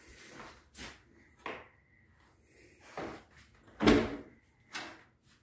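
A closet door, one of several cedar-lined closets, is opened in a Texas panhandle prairie ranchette house during a tour, giving a few separate wooden knocks, rubs and clicks, nearby and fairly quiet.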